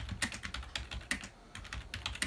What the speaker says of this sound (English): as I type on the PC keyboard, you will see that the characters,